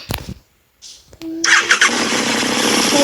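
A motorcycle engine in Minecraft sputters and catches, then revs into a loud, steady roar after a brief quiet moment.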